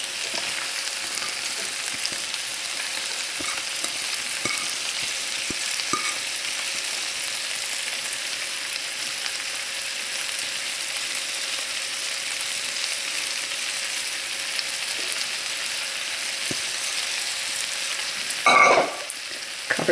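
Cabbage, onions, celery and green peppers stir-fry with pork bacon in a steady, even sizzle that runs unbroken, with a short clatter of utensils near the end. No one speaks.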